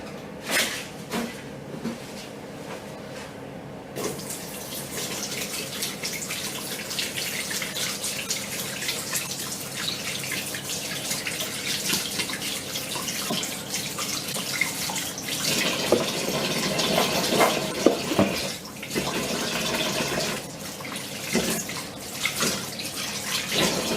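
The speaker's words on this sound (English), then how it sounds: "But first I shall wash my hands to get off the raw egg." Tap water runs steadily into a kitchen sink while hands are washed clean of raw egg during cake baking, a moderate hiss with cupboard knocks and small splashes, near and without talk.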